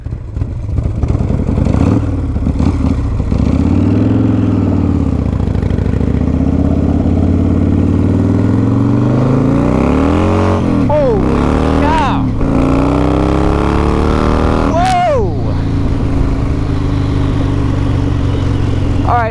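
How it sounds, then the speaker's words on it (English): A Harley-Davidson Fatboy with a 140ci motor warms up close by, its loud, lumpy idle rumbling steadily while several throttle blips rise and fall near the end. "But it's good just to let the bike warm up."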